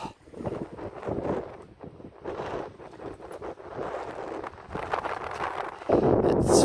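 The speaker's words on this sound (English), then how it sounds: "It's very windy." Strong wind buffets the microphone while sailing off the Isle of Skye in roughly 13 knots on calm seas, a loud, gusty rumble with fluttering bursts that swells toward the end.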